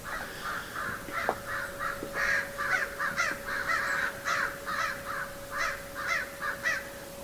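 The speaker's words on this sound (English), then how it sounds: "Oh, those crows are sure noisy today." Crows caw repeatedly in a backyard, a loud run of harsh rhythmic calls coming in quick overlapping bursts over a steady faint background hum.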